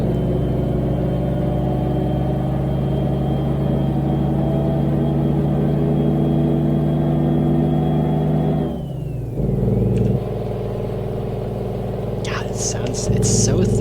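Detroit Diesel truck engine in a driving video game, a steady throaty low rumble with a rising turbo whine that drops away briefly, then the engine settles back in while a voice talks over it.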